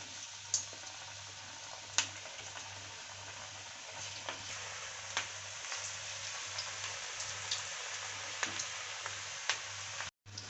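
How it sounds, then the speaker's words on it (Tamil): Cabbage chilli pieces deep-frying in hot oil, a steady soft sizzle with scattered faint pops and ticks, heard alone at a low level throughout. "சின்ன சின்னதாக நம்ம சில்லி போடுற மாதிரி எடுத்து போட்டு எண்ணெயில் வறுத்து எடுத்துக்கோங்க"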